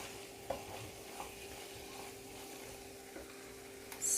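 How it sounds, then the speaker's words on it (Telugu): A spoon scrapes and stirs brinjal and chana dal curry in a pan, with a few soft clinks and a faint sizzle under quiet room hum. "వేసుకున్న తర్వాత ఒకసారి కలిపేసుకుంటున్నాను"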